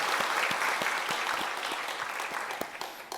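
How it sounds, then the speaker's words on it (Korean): A church congregation at a Sunday worship service applauds to welcome guests, a dense, continuous wash of many hands clapping at moderate volume, with a few sharper individual claps standing out as it tapers near the end. "우리 박수로 환영하도록 하겠습니다."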